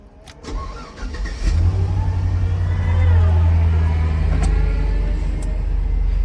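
A Hurricane Ian flood-damaged car engine cranks briefly, then catches and settles into a loud, close, rumbling run with a slightly rough, misfiring idle, a few clicks and knocks heard before it fires.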